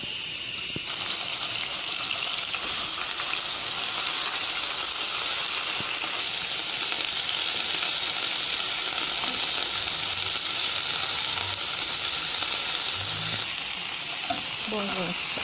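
Steak sizzling in olive oil in a frying pan, a steady, loud crackling hiss that runs unbroken throughout with no talking.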